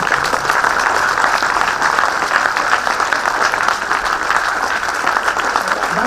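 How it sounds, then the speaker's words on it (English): Standing students at a fintech conclave give panelists a loud, continuous round of clapping, a thick, even roar of many hands close by. "all of the students, you have to stand and clap for the panelists."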